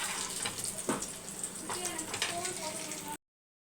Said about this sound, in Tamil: இப்போ இருக்கிற அடுத்த பேட்சையும் வறுத்துடலாம்.